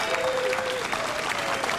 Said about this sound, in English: Everyone will welcome you with a round of applause.